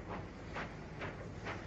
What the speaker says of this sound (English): Crab 260 number 42782 is seen at work on a train of coal wagons.